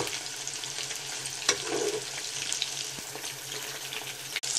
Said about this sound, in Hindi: देखिए, अच्छे से फ्राई हो रहा